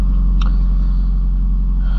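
A manual-transmission car engine idles while warming up, a loud, even low drone with a steady hum and one faint brief click early on.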